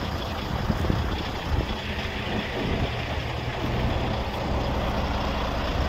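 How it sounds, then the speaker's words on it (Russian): Volvo VNL truck with a Volvo D12 diesel engine running steadily at idle, a close, continuous low rumble with no talk over it. "Так, мотор чисто работает."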